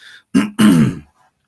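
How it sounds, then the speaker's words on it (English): Someone clears their throat close by, two rough guttural bursts in quick succession, the second longer, followed by quiet. "Sorry, I'm always clearing my throat too."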